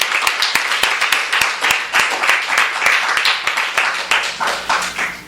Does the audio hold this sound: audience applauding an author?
yes